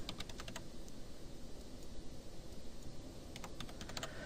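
Computer keyboard keys clicking in quick clusters at the start and end, with a held modifier-and-click combination while keyframing a pop text animation, close and fairly quiet over a steady background hiss.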